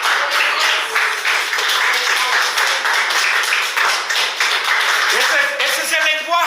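Church congregation clapping along in steady rhythmic hand claps that fill the room, close and fairly loud, with a preacher's voice speaking over them.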